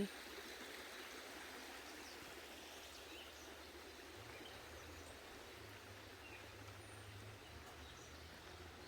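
Steady broadband rush of a flowing stream beneath a footbridge near a small village, constant and moderately close, with a low rumble of a distant engine underneath partway through.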